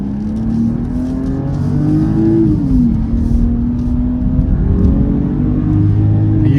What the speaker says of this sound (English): You hear that exhaust, right?